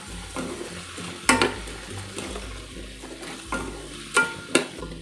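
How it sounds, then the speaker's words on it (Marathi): Rice being sautéed with vegetables for pulao, stirred in a pan with a steady sizzle, rhythmic scraping strokes and several sharp clinks of a spoon on the metal, close and without talk. "आता आपल्याला तांदूळ हा चांगला परतून घ्यायचा आहे"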